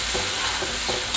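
Fenugreek stirred and cooking in fried masala in a pan, a steady close sizzle with soft scraping strokes of stirring and no talk.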